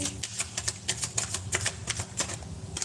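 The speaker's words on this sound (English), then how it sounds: "I totally shuffled that not very well." A deck of tarot cards shuffled by hand, a run of crisp, regular riffling flutters close up, repeating about a dozen times with a steady rhythm and no talking.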